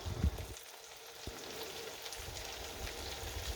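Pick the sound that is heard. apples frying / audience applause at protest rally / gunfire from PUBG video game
apples frying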